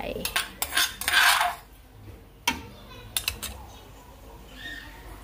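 Spoon scraping and clinking against metal while pounded fish is ladled into a cooking pot for a Thai curry, several sharp clatters early, then sparse taps.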